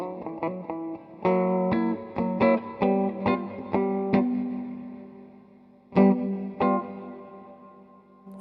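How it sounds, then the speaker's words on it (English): Guitar played through a Cuvave hall reverb with the decay at 12 o'clock, a rhythmic run of plucked notes and chords, each ringing into a moderate tail, then a pause and two more strong strums near the end. "I think that's a nice effective reverb."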